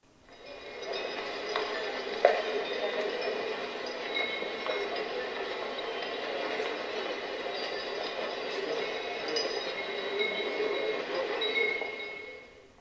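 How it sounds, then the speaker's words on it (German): A model train rumbles and hums steadily for several seconds, with faint metallic clinks and wheel squeals, rising then fading away, as station ambience from a Märklin gauge 1 SBB RCe 2/4 Red Arrow railcar. "Als nächstes Umgebungsgeräusche am Bahnhof."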